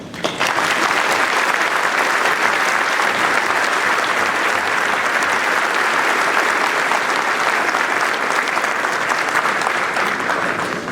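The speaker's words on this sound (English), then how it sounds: "I would like to celebrate those teachers now, if you will join me in a round of applause." A large audience at a high school graduation ceremony applauds for teachers, producing a dense, steady, loud roar of clapping that holds evenly for about eleven seconds with no talking.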